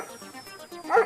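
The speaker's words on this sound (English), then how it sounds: "we hear a dog barking" A dog barks in a ghost film, a few short barks building to a louder yelp near the end, heard cleanly with no talk over it.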